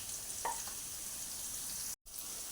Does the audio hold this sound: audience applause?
no